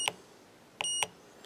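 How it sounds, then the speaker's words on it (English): A Shanny SN-E3-RT speedlite gives short electronic beeps as its modes are toggled, one alone and then a quick close pair with a fainter fourth, crisp and high-pitched against a quiet background. "Now the sound is on, go back, and you can hear the beep"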